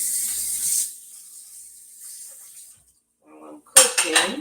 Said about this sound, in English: I'm washing up a few dishes here